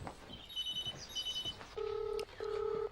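Telephone ringing in two long electronic bursts, separated by a short gap, preceded by fainter tonal beeps; fairly loud and clear, with no voices.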